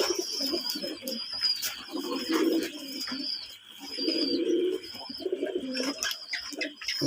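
Several domestic pigeons of mixed colours coo in repeated low, throaty bursts, loud and close, with soft rustling and faint chirps between calls and no talk.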